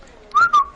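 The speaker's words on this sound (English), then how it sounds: "No, you're a slide whistle right there." A slide whistle gives a quick two-part tone, a rising swoop held briefly and then a second short blast, sharp and close against a quiet background, with no talking.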